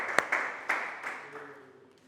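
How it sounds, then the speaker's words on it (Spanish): A brief burst of clapping from a church congregation at a Spanish-language service, a few sharp claps up front that quickly thin out and fade, leaving a low hum and room tail. "Dale un fuerte aplauso a Cristo Jesús."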